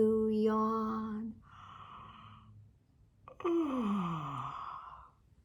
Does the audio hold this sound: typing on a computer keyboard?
no